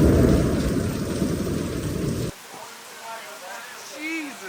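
Heavy rain at the Sebring race track pours as a dense, loud hiss for a couple of seconds, then cuts to a quieter scene with faint patter and some background voices.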